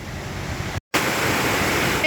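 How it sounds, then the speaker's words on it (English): A small waterfall at a gnome-themed stop gives off a steady, close, fairly loud rushing hiss of falling water that runs continuously except for a brief cut near the start, with no voices over it. "And there's the gnome's waterfall."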